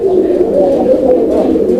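A male Indian Kagji pigeon coos close by in a steady, throaty, rolling call that fills the short moment without pause.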